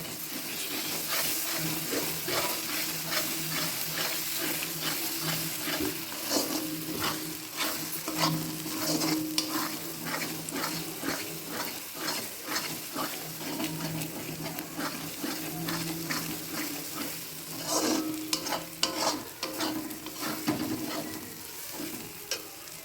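Steady sizzling and hissing of onion and ginger paste frying in a pan, with repeated scraping stir strokes throughout and no talking.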